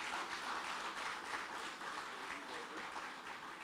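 Faint, steady applause from an audience at a regional housing drive event, a soft continuous wash of clapping heard from a distance.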